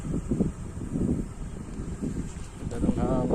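Strong wind sweeps across an open rice field, buffeting the microphone with a steady low roar and rustle that swells and eases; someone talks over it throughout.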